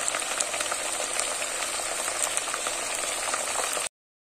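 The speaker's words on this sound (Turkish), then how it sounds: "Şimdi patatesi kızartacağım." Steady crackling sizzle of potatoes frying in hot oil, close and continuous, then an abrupt cut to silence near the end.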